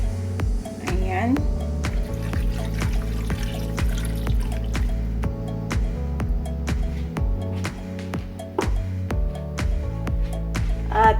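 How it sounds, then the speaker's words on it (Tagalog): Water is poured into a pot for pork ribs adobo already seasoned with vinegar and soy sauce, giving a steady trickling stream with some drips, over low background music. "maglalagay na tayo guys ng tubig"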